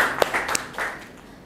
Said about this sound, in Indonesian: Oke, kita kasih aplaus buat Gloria.